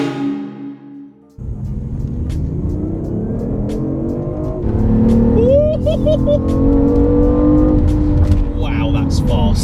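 A 2017 BMW hybrid's 1.5-litre three-cylinder turbo engine pulls hard under acceleration from inside the cabin, a rising steady drone that grows louder partway through, with people talking over it.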